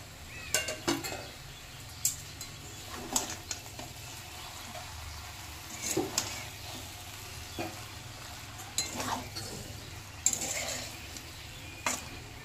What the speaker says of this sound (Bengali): এবার আগে থেকে ভেজে রাখা বেগুনটা দিয়ে দেবো